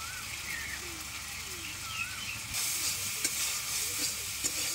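Spice paste of ginger, chilli and salt frying in a pan, a soft, steady sizzle with occasional stirring scrapes close by, fairly quiet throughout.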